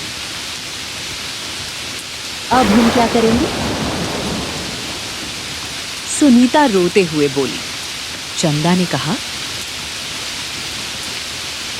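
Steady, soft rain hiss runs under an animated children's story about birds caught in the rain, while voices narrate and speak in short bursts over it.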